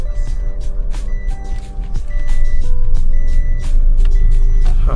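A car driving through city traffic with a steady low engine and road rumble inside the cabin, with brief horn-like tones from surrounding vehicles.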